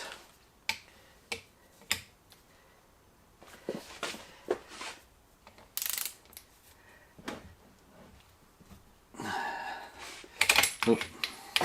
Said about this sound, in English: torque wrench, 45 newton meters